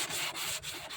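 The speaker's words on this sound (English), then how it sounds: "you can see with me sanding, I'm actually taking material away around the top" A sanding block rubbed by hand over primer makes a continuous, dense scratchy rasp in rapid back-and-forth strokes, close and steady with brief rhythmic dips between passes.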